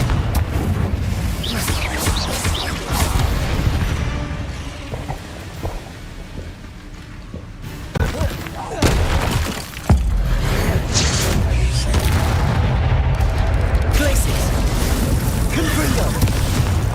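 Repeated Confringo fire-spell blasts in the wizarding game Hogwarts Legacy, a long stretch of loud booming, crackling explosions in bursts with brief dips between them, with a voice talking at times.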